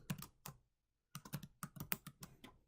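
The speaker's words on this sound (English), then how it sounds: "and type hello world" Computer keyboard tapped close up in two bursts of crisp keystrokes, a few quick clicks, a short pause, then a faster run of about a dozen keys.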